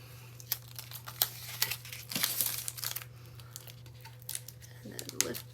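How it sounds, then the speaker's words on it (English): Tape is peeled off vinyl backing with soft crinkling and tearing noises in short irregular bursts, against a steady low hum, while a voice talks over the top. "Then I can remove the tape."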